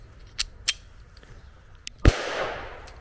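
A single sharp report from a blank-firing pistol, fired as a deterrent against a charging wild boar, with a loud crack followed by a short fading tail; a few faint clicks come before it in an outdoor setting.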